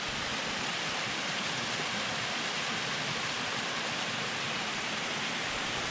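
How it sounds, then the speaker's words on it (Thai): Steady broadband rush of a waterfall pouring into a mountain stream on a high hill at night, continuous and fairly close, with no voices over it. "ข้างหน้าก็จะเป็นน้ำตกตกมานะครับ"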